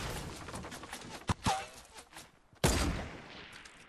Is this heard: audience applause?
no